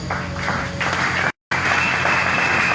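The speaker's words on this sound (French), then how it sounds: "Les accueillir aussi sur vos acclamations." Applause and acclamations from a church conference crowd, a burst of clapping and cheering with a brief dropout in the middle, fairly close and without speech.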